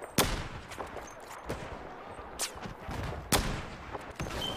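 Gunfire in the shooter game Battlefield 4: several loud, sharp shots crack out at irregular intervals over a busy battlefield background, with a few fainter distant pops between them.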